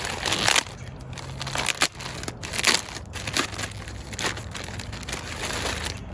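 A plastic package holding two bike inner tubes for a Mars Heybike 1.0 electric bike is handled close up, with loud, continuous crinkling and crushing rustles and a few sharp crackles throughout, and no talking.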